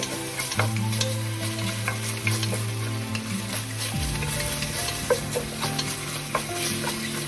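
Pork stir-frying in a wok for rad na, with steady sizzling and repeated metallic scrapes of the spatula. A low burner drone hums beneath until it drops partway through, leaving crackling and clinks up close.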